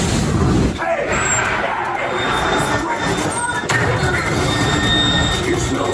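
Roller coaster train at Silver Dollar City amusement park rumbling and rattling along the track with occasional wheel squeals, loud and close, with a voice speaking over it.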